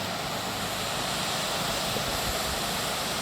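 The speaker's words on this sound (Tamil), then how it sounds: "இந்த அருவி வந்து மேலே மலையிலேருந்து வர்ற தண்ணி" Water pours down from a mountain as a waterfall in the Kolli Hills, a loud, continuous broadband roar that stays even and unbroken throughout.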